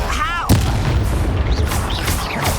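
An Incendio fire spell blasts during a Hogwarts Legacy duel, a heavy booming burst up front followed by rumbling, crackling spell effects and whooshing casts that keep the low end churning.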